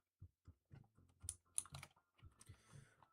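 Typing on a computer keyboard: a close, quiet run of irregular clicks and clacks, several keystrokes in quick bursts with short pauses, alone without speech.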